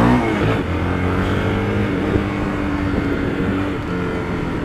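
A Honda CB300R motorcycle fitted with a Borozinho diffuser exhaust idles and roars close by, a steady, loud, rumbling drone that holds without pause.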